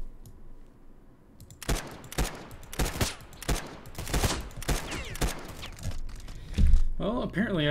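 Single-fire gunshots in the video game True Stalker, a quick series of sharp, loud reports spaced irregularly over several seconds, with faint in-game ambience between shots.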